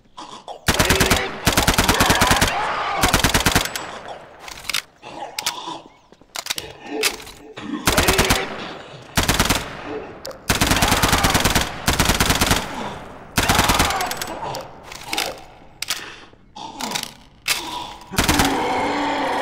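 Loud automatic gunfire in Garry's Mod, long rapid bursts with short pauses between them, close and dominant with no talk over it.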